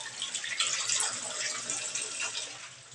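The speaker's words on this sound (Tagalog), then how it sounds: "Dito may gripo tayo guys oh." Water runs from a tap at a building site with newly built rooms, a steady splashing gush that stays fairly close and even for the whole stretch with no voice over it.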